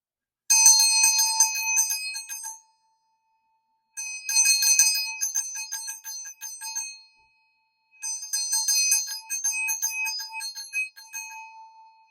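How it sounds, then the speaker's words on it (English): A high metallic vajra bell is rung in three separate bursts, each a shimmering rapid ringing that fades before the next, with silence between. "we will also use this Vajra bell to cleanse the space"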